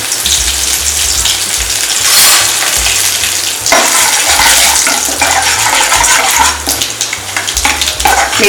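Mustard seeds, urad dal, two dried red chillies and curry leaves crackle and sizzle in hot oil in a kadai, a loud, dense, continuous frying hiss with scattered pops and spoon stirring throughout.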